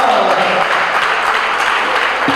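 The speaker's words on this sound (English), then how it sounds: "A big round of applause for our public speaker." Sustained, fairly loud applause from a schools debate championship audience for a public speaker, an even wash of many hands clapping with no pauses.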